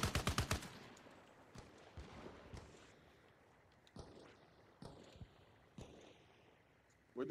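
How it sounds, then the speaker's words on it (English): Gunfire in a military video game: a rapid burst of shots at the start, then scattered single cracks at varying distances over a low ambient rumble, with a voice speaking briefly. "Where those shots coming from?"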